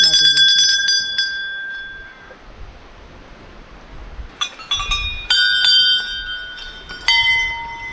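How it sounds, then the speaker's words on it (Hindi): Many temple bells hung by devotees at a Himalayan shrine on the Roopkund trek ring out in bright, overlapping metallic tones, several strikes with long ringing decay, close and loud. "तो बहुत सारी घंटियां बांध रखी है, भक्तों ने अपनी मुराद पूरी हो जाती है जिनकी, उनकी।"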